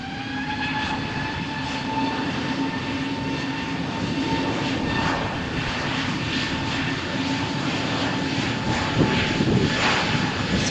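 A Brussels Airlines airliner starts its takeoff roll on Runway 13 at Malaga Airport on a stormy morning, loud, near jet engines with strong tonal whines holding steady as the roar builds slightly toward the end.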